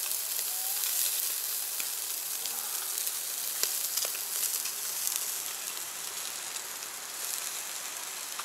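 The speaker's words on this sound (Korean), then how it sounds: "기가 막히게 구워지고 있습니다. 전어구이 숯불이 지금 아주 제대로입니다." Gizzard shad grilling over a charcoal fire at a campsite, giving a steady broadband sizzle and crackle with scattered sharp pops, close and continuous throughout.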